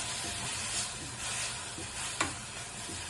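Tamarind leaf chutney (chintha chiguru pachadi) frying in a pan with a couple of spoons of oil, giving a steady close sizzle and hiss with occasional stirring scrapes and one sharp clink of a utensil.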